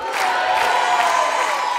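A television studio audience applauds and cheers for a performance, a steady dense wash of clapping and voices that stays loud and even throughout.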